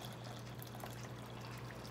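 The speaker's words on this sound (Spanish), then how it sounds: "aquí le vamos a agregar una taza de agua caliente" Hot water pours steadily into a bowl for grape gelatin, a continuous splashing liquid stream lasting the whole moment with no talking.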